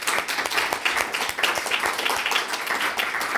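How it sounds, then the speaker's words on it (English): An audience at a talk on Scotland's past gives a final round of applause for helpers. The clapping is dense and even, at moderate loudness, and lasts the whole stretch. "if you could just do a final, one final round of applause for absolutely everybody who's helped"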